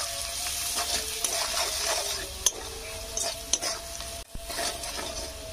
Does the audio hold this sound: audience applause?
no